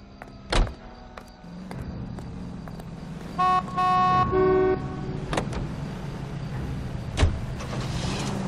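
Car in L.A. Noire: a sharp door thunk, an idling engine hum, a blaring horn burst in the middle, then another thud as the engine keeps running, with no talk.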